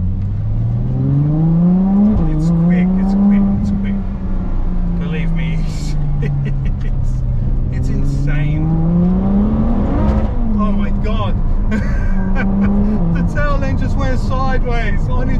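A Ferrari F12 TDF V12 supercar accelerates hard as its rear kicks out, the engine note climbing and falling in long sweeping revs with sharp shifts, loud and close from inside the car.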